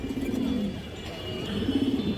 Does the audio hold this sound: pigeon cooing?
yes